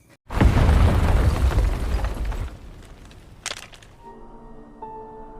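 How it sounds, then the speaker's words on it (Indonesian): A bomb explodes in a sudden, loud boom that fills the air with rumbling debris, then fades over a couple of seconds. A few sharp crackles and a faint lingering ringing tone follow. "Akhirnya, bom pun meledak."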